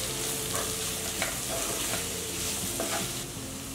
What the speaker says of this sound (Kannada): ಮಿಕ್ಸ್ ಮಾಡ್ಕೊಳ್ಳೋಣ